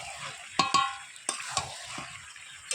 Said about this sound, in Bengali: প্রায় হয়ে গেছে কষানো।